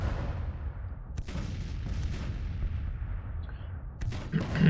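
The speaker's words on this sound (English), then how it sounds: "Yeah, the cannons are blasting them. Even the 3-inch ordnance is blasting them" Civil War cannons and 3-inch ordnance firing in Grand Tactician, deep booms that rumble on, with sharp reports near one, two and four seconds over a low continuous battle din.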